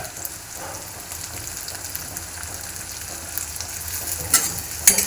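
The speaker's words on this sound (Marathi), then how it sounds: "यांना पण थोडंसं आपण आता फ्राय करून घेऊया। हे बघा आपण थोडं असं हे फ्राय करून घेतोय" Chopped onion, tomato, curry leaves and green chilies fry in a pan with a dense, continuous sizzle near the listener, plus a few brief stirring clinks toward the end.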